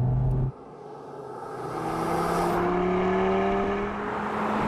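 An Audi TT RS coupé with permanent all-wheel drive drives on a race track, its engine droning and rising steadily as it accelerates, loud and continuous after a brief abrupt shift at the start.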